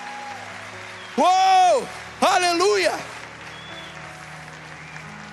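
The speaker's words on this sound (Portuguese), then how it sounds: "Então dê uma salva de palmas e glorifica Ele." A church congregation keeps up a steady bed of clapping while two loud, drawn-out voiced shouts of praise ring out over it, and the applause then continues more softly.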